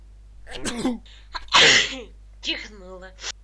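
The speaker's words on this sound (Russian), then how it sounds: "Чихнула." A woman sneezes once, loud and close, after a short breathy intake, with brief vocal sounds before and after and a steady low electrical hum underneath.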